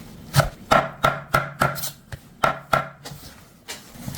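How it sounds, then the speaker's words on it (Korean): Knife chopping salted napa cabbage into bite-size pieces on a board: about ten sharp, evenly spaced chops, close and clear, with no talk. "절인 배추는 막김치 담글 때처럼 한 입 크기를 썰어요."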